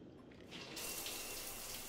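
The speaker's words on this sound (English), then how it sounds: "she showers in her underwear" Shower water in Mass Effect 3 Legendary Edition, starting softly and then swelling into a steady, full hiss of spray that runs unbroken to the end, with no voices.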